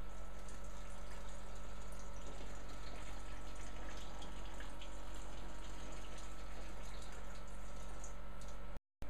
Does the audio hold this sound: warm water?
yes